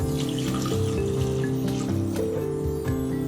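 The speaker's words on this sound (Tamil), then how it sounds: "இதுக்கு தேவையான அளவு தண்ணி ஊற்றிக்கலாம்." Water runs and splashes steadily into a pressure cooker, a continuous pouring sound with faint clinks, close to the listener.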